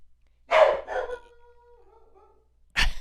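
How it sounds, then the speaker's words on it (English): A dog gives two or three close, loud barks, the first drawn out into a whining tail, then a short pause before another sharp bark. "I got a dog barking here"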